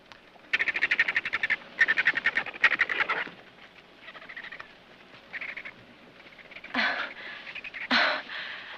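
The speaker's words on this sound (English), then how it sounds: "Oh, that's a whiskey jack." Whiskey jack, a kind of jay, calling in several bursts of rapid chattering, squawky notes, fairly close and loud at first, then softer calls with a couple of sharper cries near the end.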